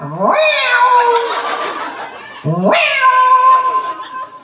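A man imitates a cat with two drawn-out, rising meows, loud and close, the second after a short pause, in a lively Sundanese sermon setting.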